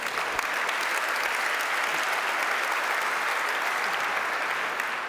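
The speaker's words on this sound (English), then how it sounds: "That deserves applause." Steady applause from an audience at a keynote talk, continuous and fairly dense clapping throughout with no voices standing out.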